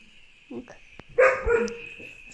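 A dog gives a couple of short barks and a longer, louder bark-whine in the middle, heard fairly close over a quiet background with faint electronic game sounds.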